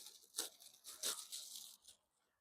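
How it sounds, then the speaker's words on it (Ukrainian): A crinkly plastic seed or plant packet is torn open in a few sharp rips, close up and fairly quiet, then the sound stops. "Зараз відкрию другий пакетик."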